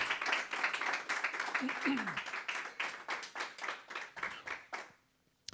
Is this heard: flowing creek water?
no